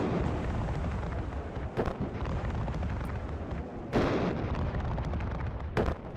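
Cluster artillery barrages in the WARNO strategy game, a dense continuous rumble of booms with a few sharper blasts standing out, loud and without speech.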